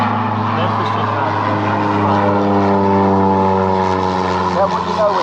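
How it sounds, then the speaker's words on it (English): An airplane passes near an airport with a strong, steady droning engine hum and layered tonal harmonics, sustained and close, rising slightly in intensity mid-pass. "we have an airplane come by, since we are parked by the airport"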